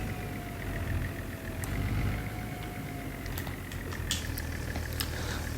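A tractor engine runs steadily in Farming Simulator 25, a constant mid-low drone with a faint whine, with some light clicks and rattles on top.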